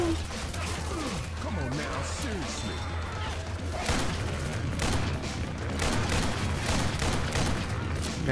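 Gunfire in the zombie shooter Left 4 Dead 2 during the Centro Mall stage, rapid bursts of shots and crashing impacts layered over game noise, with voices talking throughout.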